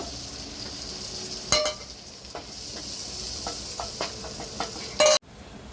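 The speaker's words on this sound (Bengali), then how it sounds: "বাটারটা গলে গেছে, এর মধ্যে আমি কিছুটা কাজু বাদাম ভেজে নেব।" Cashew nuts fry in melted butter in a pan, a soft continuous sizzle broken by stirring scrapes and light clinks of a utensil, with a sharp loud scrape just before the end.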